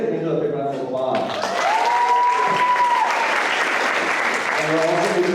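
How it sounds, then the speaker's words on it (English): Loud audience applause and cheering at a student organization event, with a raised voice or whoop rising over sustained clapping from a large crowd. "Let's get Angel a big round of applause."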